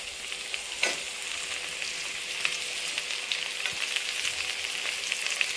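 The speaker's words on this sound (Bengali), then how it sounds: "আরও কিছুক্ষণ নাড়াচাড়া করে নিতে হবে, নিয়ে সবজিগুলো ভেজে নিতে হবে" Beans and chopped carrots fry in ghee and oil for fried rice, keeping up a soft, steady sizzle. A spoon now and then scrapes and knocks as the vegetables are stirred around the pan.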